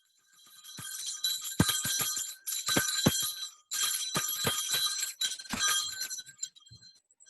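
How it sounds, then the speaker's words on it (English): Festive jingle bells from a holiday party, shaken in bright, clinking bursts that ring on and off for several seconds at close range, with brief pauses between shakes and no talk over them. "Ooh, bells?"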